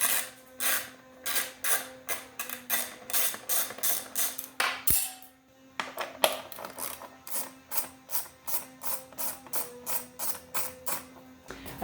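Rapid ratcheting clicks from a hand tool loosening the lower headlight screws on a 2019 Kawasaki Z400 motorcycle, close and crisp in steady bursts with a brief pause midway, no talking.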